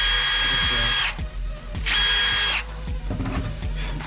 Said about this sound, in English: Drill these holes.